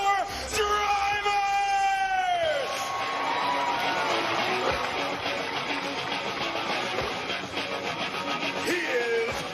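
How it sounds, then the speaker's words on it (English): Big NASCAR Cup Series championship crowd cheering, yelling and whooping loudly and continuously, with a rising announcer-like voice at the start giving way to a sustained roar of applause and shouts. "So put your hands together and clap for your championship 4 drivers!"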